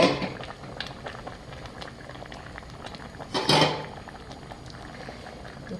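Braised flounder and radish simmering in a pot makes a soft, steady bubbling, broken near the middle by a brief louder burst of boiling or liquid movement.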